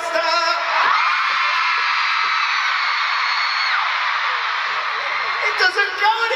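A crowd screams and whoops in one sustained, loud, dense roar of voices that swells for several seconds before breaking up into scattered shouts.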